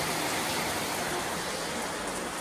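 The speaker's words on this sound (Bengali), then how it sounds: "চলে এলো বৃষ্টি" Rain falls steadily during a family trip in the Dooars, a dense, even hiss of drops with no breaks and no voices.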